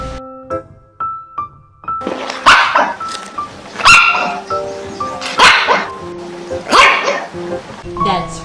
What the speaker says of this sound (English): That's right, it was a dog.